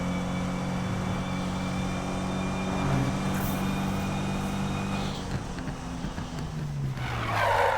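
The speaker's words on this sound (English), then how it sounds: "I'm just flooring it down the highway at this point." A car speeds down a highway in Need for Speed 2015, its engine droning loud and steady at high revs with shifting pitch, tire noise and passing traffic swelling toward the end.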